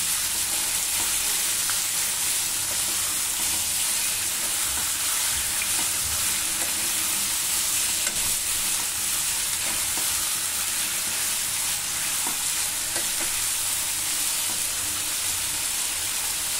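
Mutton fries over a high flame in a loud, dense, unbroken sizzle and hiss that holds steady for the whole stretch, near and without any voices.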